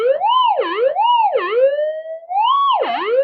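A Minelab GPX metal detector in normal mode responds to a tiny speck of gold on its coil with a loud, close, warbling tone that rises and falls in repeated swoops.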